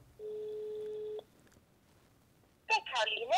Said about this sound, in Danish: Den ringer.